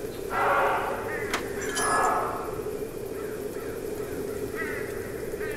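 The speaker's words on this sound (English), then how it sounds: "The birds, anywhere I go, or everywhere I go, the birds." Crows caw a few times in a hidden-object video game set at a carnival, harsh calls rising over a steady ambient hum and fading to fainter calls later.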